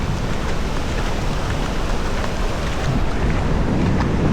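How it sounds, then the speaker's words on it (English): Ocean waves wash in on a sunny summer beach between piers, a loud continuous broadband roar of surf mixed with heavy wind buffeting the microphone. "the waves are coming in."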